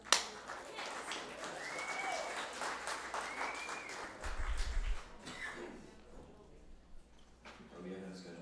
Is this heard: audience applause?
yes